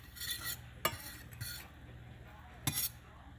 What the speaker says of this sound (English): you kind of want to keep stirring it so it doesn't burn